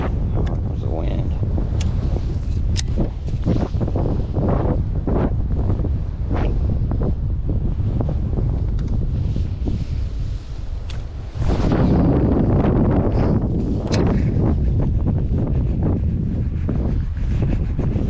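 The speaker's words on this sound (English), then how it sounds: "There's the wind." Strong wind buffets the microphone on a fishing boat during spring pre-spawn fishing, a steady loud roar with gusts and possible water slap, and people talk over it.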